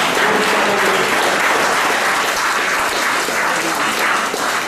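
A church congregation claps and cheers together at a French-language worship service, steady dense applause filling the whole stretch at close range with no speech over it.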